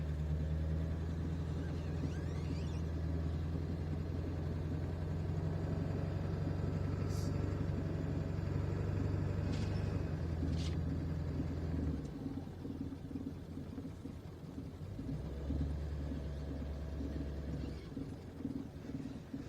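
A big truck fitted with QIYISS tire chains grinds through deep snow drifts, a loud steady low engine rumble with a drop in tone partway through, then the drone building again.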